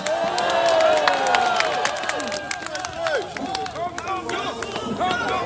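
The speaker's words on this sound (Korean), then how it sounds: "강승규 위원장을 소개해 드리겠습니다 박수로 맞아주십시오" Audience at a Liberty Korea Party event applauding as a Mapo district committee chairman is introduced, clapping and crowd murmur running throughout while a voice speaks over the applause near the front.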